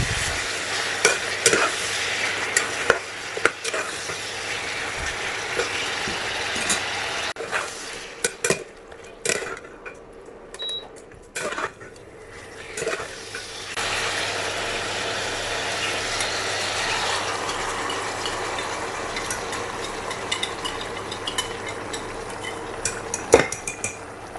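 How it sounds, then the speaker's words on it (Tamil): Mughlai-style mutton stir-fried in oil in a pan: a continuous close sizzle broken by frequent clanks and scrapes of a metal spoon against the vessel, busiest at the start and end, no voices. "ஒரு 5 நிமிஷம் இப்படி எண்ணெயிலே நல்லா புரட்டி விட்டுக்கலாம்."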